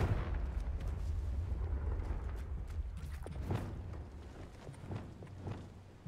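A Confringo blasting spell in the video game Hogwarts Legacy sets off a booming explosion that rumbles on with crackling, debris-like bursts, fading gradually over several seconds.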